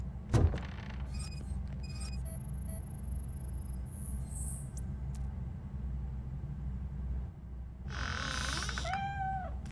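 A cat meows in the video game Robocop Rogue City: a drawn-out mewing call rises and falls near the end, over a low ambient rumble, with short electronic tones and a sharp knock earlier.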